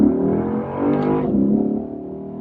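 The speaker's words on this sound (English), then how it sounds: "we will show you one more time kind of the acceleration that is in this car real quick." 2015 Lexus RC-F accelerating hard, a close, loud engine roar that swells and climbs in pitch over a couple of seconds, then eases off.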